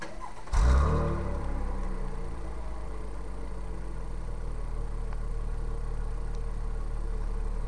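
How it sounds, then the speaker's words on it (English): A 2018 Chevrolet Camaro 1LT RS with a V6 exhaust fires up with a sudden loud rev, then settles into a deep, throaty, steady idle heard from a few steps behind the car. "it has one of the better V6 exhausts I've ever heard in my entire life, and we'll stand back here and we'll give it a whirl"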